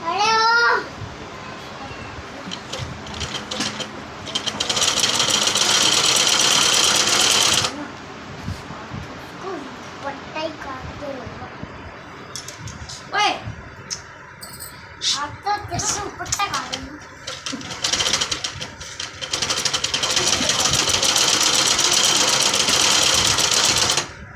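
An electric sewing machine stitches a frock in bursts of fast, steady whirring, loud and close, separated by quieter stretches of handling and clicks, with someone speaking in between.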